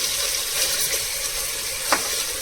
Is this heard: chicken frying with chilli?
yes